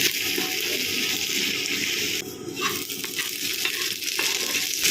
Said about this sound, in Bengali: পেঁয়াজ রসুনটা ভালোভাবে ভাজা হয়ে গেছে